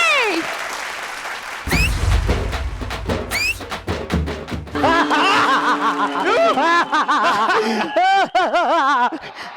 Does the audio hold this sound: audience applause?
yes